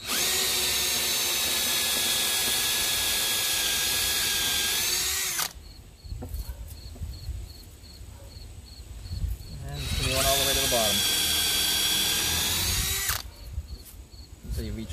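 A power saw blade cutting through MDF and plexiglass for an arcade control panel, a loud whining drone that cuts off, resumes for a few seconds, then stops again, close to the microphone.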